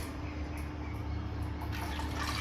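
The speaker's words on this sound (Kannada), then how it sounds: "ನೋಡಿ, ನೀರೆಲ್ಲ ತೆಗೆದಿದ್ದೀನಿ." Water steadily draining from pressure-cooked greens and dal (punarnava leaves with lentils), a soft continuous trickle and pour close by with no voices.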